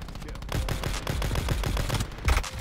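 Rapid gunfire in a shooter video game, a dense continuous stream of shots with a louder burst near the end, close and loud with no talk.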